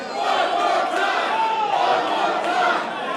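A large wrestling crowd roars and chants loudly and continuously at a USWA event, a dense wall of cheering voices filling an arena.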